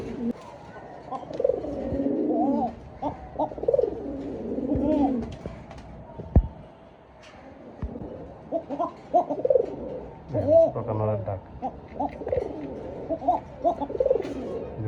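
Pigeons in a pen coo again and again, close and fairly loud, their throaty rolling calls overlapping with short pauses between them.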